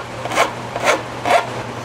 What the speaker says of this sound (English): So I want to switch to the flat back of the file and just pull it toward me.